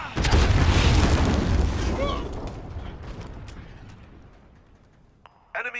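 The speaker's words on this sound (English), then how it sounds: "Allied cruise missile away" A cruise missile explosion in Call of Duty: Modern Warfare, a loud deep boom with a long rumbling roar that slowly fades over several seconds, ending in brief clattering sounds.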